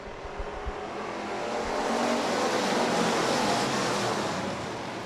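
Sportsman class race cars roar together under green at a speedway at night, a broad, continuous engine drone that swells in the middle and stays loud throughout.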